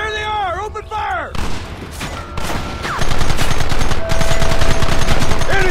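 Rapid gunfire rattles in Red Dead Redemption on Xbox One, starting after brief shouted voices. It builds into loud, sustained bursts of shots that fill most of the stretch.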